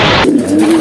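Pigeons in a loft give a short, close coo with a steady low hum, loud and brief, following a burst of rustling noise at the start.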